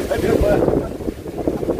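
Steady wind buffets the microphone by the sea after a typhoon, a low rushing roar with faint water and indistinct background voices.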